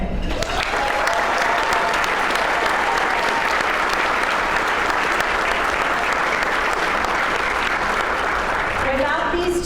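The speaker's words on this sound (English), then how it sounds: "Let's give a quick round of applause for Assistant Director Pierre Tycho" Sustained, loud applause from a room full of guests at an annual awards dinner, dense steady clapping that continues for nearly ten seconds before tapering off at the end.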